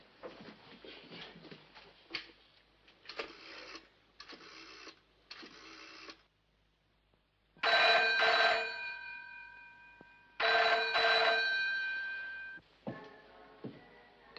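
An old landline telephone ringing down the line in a 1957 setting, two long loud trilling rings with a pause between, after a stretch of quieter clicks and handling sounds.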